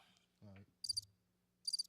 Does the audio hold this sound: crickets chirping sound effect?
yes